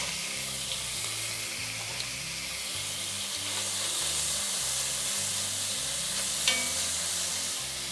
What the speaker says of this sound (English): Now I'm gonna throw bacon in